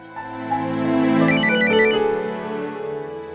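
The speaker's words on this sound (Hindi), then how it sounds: "मम्मी का फोन है किट्टू, उठा लो ना, कट जाएगा।" A mobile phone's melodic ringtone plays loud and close indoors, a bright repeating tune that swells and fades over a few seconds, with no one talking over it.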